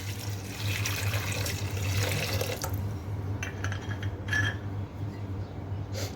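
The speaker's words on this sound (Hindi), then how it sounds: "इसमें मैं डालूंगी पानी" Water is poured into chicken curry in a pot, a steady splashing pour for the first few seconds, then a fainter trickle and sloshing over constant low hum from the stove or pressure cooker.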